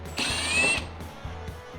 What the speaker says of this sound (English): I got my drill back charged. So now I can use that, which is a lot better than doing it manually.